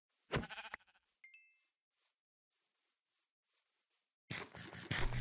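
Sheep bleating in Minecraft, a short game bleat and sharp hit sounds followed by a pause, then faint scattered soft effects and a louder noisy burst at the end.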